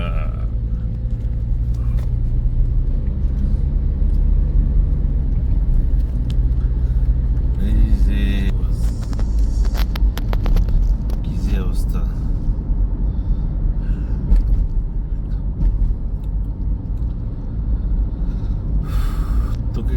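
A car cruising along a road gives off a steady, loud low engine and tyre rumble that holds constant throughout, with voices talking faintly inside the cabin.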